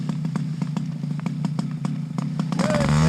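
A small single-cylinder aircraft engine that tends to idle low runs steadily with a ticking, clattering pulse, then swells louder near the end as the gas is pumped.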